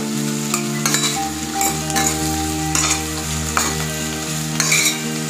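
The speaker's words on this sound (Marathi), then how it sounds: "भाज्या सगळ्या छान मिक्स झालेल्या आहे. हाय फ्लेमवरती परतून घ्यायचं आहे." Mixed vegetables for an Indo-Chinese vegetable chow chow being tossed in a pan over a high flame, a loud continuous sizzle broken by regular scraping and clattering stirs, close up with no talk.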